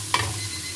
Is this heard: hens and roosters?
no